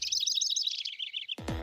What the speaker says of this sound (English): So if you took the sound of birds chirping,